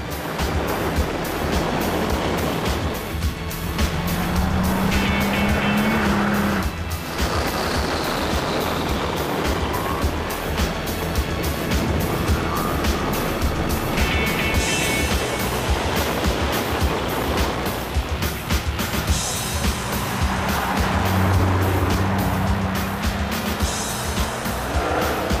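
A Mercedes-AMG SL Black Edition with 670 horsepower drives past at the Goodwood Festival of Speed, its loud, continuous engine roar rising and falling over steady wind and crowd noise for the full length.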